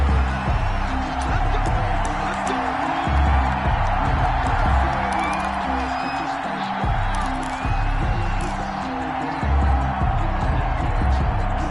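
NFL stadium crowd noise in a PS4 football game between the Buffalo Bills and Tennessee Titans, a steady roar of cheering and whoops under commentary, with the swell rising and dipping throughout.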